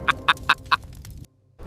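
A chicken gives four quick, evenly spaced clucks close by, followed by a short pause and the start of another sound.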